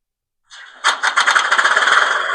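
An Accurascale O gauge model diesel locomotive starts its engine sound: a soft whirring onset, then a rising series of rhythmic chuffing pulses that settle into a steady, close, fairly loud idle.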